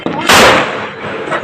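A loud, booming Diwali firecracker blast bursts close by, then a rumbling, hissing tail that fades over about a second.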